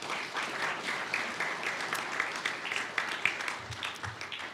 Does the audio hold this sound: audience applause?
yes